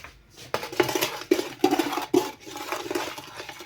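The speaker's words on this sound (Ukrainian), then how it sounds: "Це все ми розмішуємо" Flour and sugar stirred together in a bowl for Easter paska dough, a close, steady scraping and knocking of a spoon against the bowl in repeated strokes, with no one speaking.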